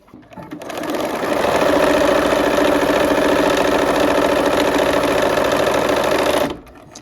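A sewing machine with a quarter-inch presser foot runs steadily, stitching a quarter-inch seam along the diagonal sides of quilt blocks, a close continuous whirring buzz for about six seconds before it stops.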